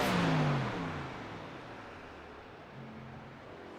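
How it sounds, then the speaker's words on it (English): A racing truck engine in the game iRacing is shut off, winding down from a droning hum to a lower idle rumble, steady and fairly close, with no talking. "We hear him shutting that truck off and saving some fuel."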